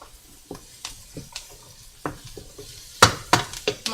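Mushrooms sautéing in a pan for creamy mushroom soup, with soft stirring scrapes and light sizzle broken by sharper clinks of a utensil against the pan, no voices.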